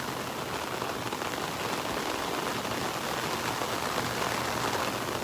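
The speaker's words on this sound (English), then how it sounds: "I love the sound of the rain hitting the umbrella." Heavy rain from a tropical storm drums steadily on an umbrella at a Naples, Florida beach, a dense, unbroken hiss of drops without pauses or voices.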